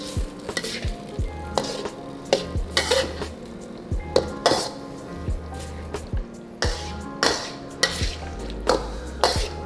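Carrots and long beans stir-fried briefly in a hot pan, a spatula clattering and scraping in quick repeated strokes over a steady sizzle, close and clear with no talking.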